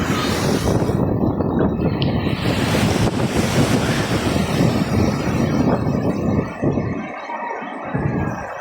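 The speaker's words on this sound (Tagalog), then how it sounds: "Malakas ang alon." Strong sea waves crash and roar continuously at close range, heavy surf mixed with buffeting wind noise on the microphone, with no talking.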